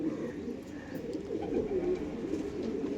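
A pair of pigeons coo continuously in low, throaty, rolling murmurs that overlap one another, close by and steady throughout.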